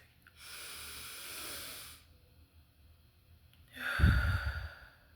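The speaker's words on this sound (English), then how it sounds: "let's take a minute and take a deep breath" A person takes a slow deep breath: a long airy inhale lasting about two seconds, a pause, then a louder breathy exhale, close to the mic with no speech.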